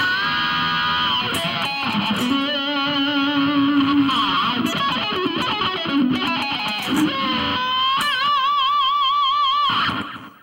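Distorted electric guitar playing a quick bluesy pentatonic lick in a metal solo style, with wavering string bends and vibrato, loud and sustained, no talking.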